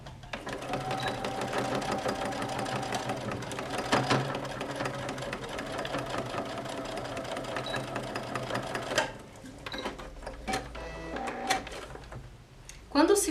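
A sewing machine stitches fabric for a boxy zippered pouch with a handle, running in a fast steady mechanical chatter for about nine seconds, then stopping into a few separate clicks and handling knocks.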